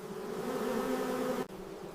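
Steady, close buzzing drone of honey bees humming continuously, with a brief dropout near the end before the buzz resumes.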